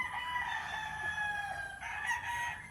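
A claret cross gamefowl rooster, claret over Boston Roundhead, crows steadily and fairly close on a farm, one long drawn-out call with a second rising note near the end.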